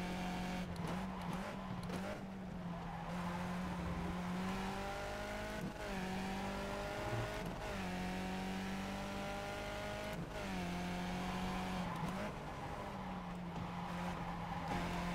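Skip Barber F2000 open-wheel race car in iRacing, engine note rising and dropping through repeated upshifts and downshifts as it brakes hard for a turn at VIR North, loud and continuous with no talk.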